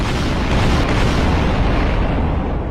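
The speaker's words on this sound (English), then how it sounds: "after the final attack, several explosions" Several big explosions roar in Ty the Tasmanian Tiger after the final boss attack, a dense, continuous rumbling boom that stays loud and steady throughout with no clear gaps between blasts.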